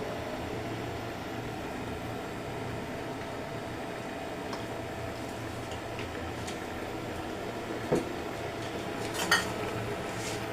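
Ginger, garlic and cumin paste being stirred with soybean oil in a pot, a low steady hum with faint scraping and two brief metallic clinks of the utensil near the end, no speech.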